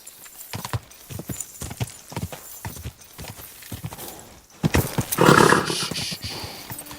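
Horse hooves clip-clop in a brisk rhythm in the video game Kingdom Come: Deliverance II, then a loud horse whinny or snort rises near the end, close and clear.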